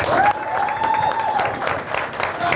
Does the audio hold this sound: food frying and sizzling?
no